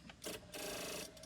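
Rapid mechanical clicking chatter from a car ignition with a dead battery, in two bursts, a short one then a longer steady run, close and fairly loud, with quieter ticking between.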